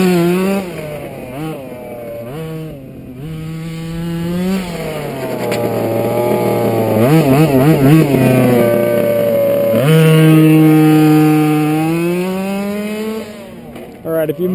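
The electric motor of an FG Modellsport Sportline RTR 4WD touring RC car whines at high speed, its pitch climbing and falling repeatedly as it makes passes, loud and close.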